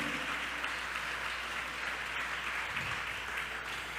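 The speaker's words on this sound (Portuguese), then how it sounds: "Aplauda ao Senhor por isso." A church congregation applauds steadily at a distance, with soft, even clapping that holds at a constant level.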